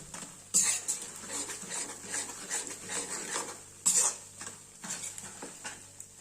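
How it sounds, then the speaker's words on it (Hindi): A khoya, edible gum and flour mixture being stirred in a pan, with a spoon scraping and knocking against the metal in an irregular rhythm and a faint sizzle beneath, close and moderately loud. "इस स्टेज पर आपको कम से कम 1 से 2 मिनट के लिए लगातार चलाना है।"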